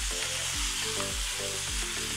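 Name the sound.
meat with spices frying on full heat for biryani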